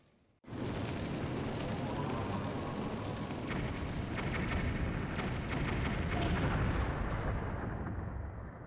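House blowing up in The Legend of Zelda: Twilight Princess, a sudden loud blast that rolls into a sustained roaring, crackling rumble lasting several seconds before easing off.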